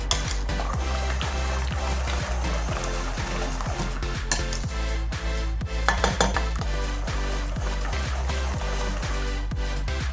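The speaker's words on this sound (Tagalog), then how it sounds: "i-whisk lang natin siya hanggang matunaw yung sugar" Cassava cake batter is whisked until the sugar dissolves, giving quick rhythmic scraping and tapping strokes against a bowl, steady and close throughout with no talking.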